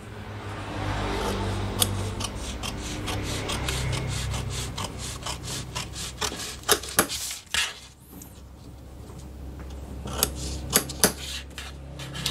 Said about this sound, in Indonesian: di sini kita potong dulu